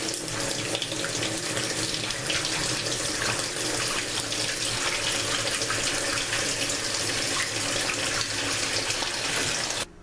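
Water runs steadily from a tap while raw chicken is rinsed with salt water in a kitchen sink, a continuous close splashing hiss that holds evenly for about ten seconds before stopping.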